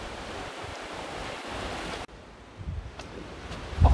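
Steady wind roars and buffets across the microphone on a coastal walking trail of the Homi Peninsula in Pohang, a broad constant rush that drops briefly midway before gusting back with low thumps.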